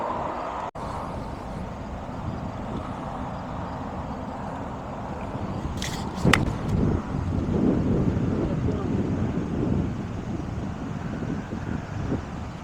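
Wind blows across an outdoor golf course, a steady low buffeting on the microphone with a few sharp knocks and a slight rise in gusting partway through.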